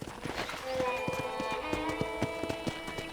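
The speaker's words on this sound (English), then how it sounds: "let's see if you can still ride a horse" Rhythmic clip-clop of a video-game horse's hooves at a quick pace, steady and close, over a sustained tonal background hum.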